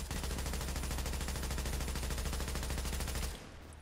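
In Tom Clancy's The Division, an automatic weapon fires one sustained rapid burst, loud and close, with shots running together for about three seconds before cutting off abruptly.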